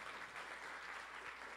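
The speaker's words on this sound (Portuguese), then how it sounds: "Palmas para o Pontos de Luta." Steady applause from an audience at a human rights education summer school session, a dense continuous wash of clapping at a moderate, somewhat distant level with no talk over it.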